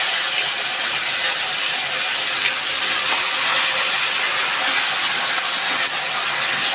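Chopped tomato hits hot oil with cumin, dried chilli, cinnamon, cardamom and bay leaves, giving a loud, dense, continuous sizzle and hiss close up.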